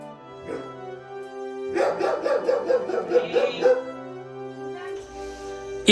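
A German Shepherd dog with porcupine quills stuck in its face barks and whimpers in a rapid run of yelps, close and fairly loud, over a steady background hum.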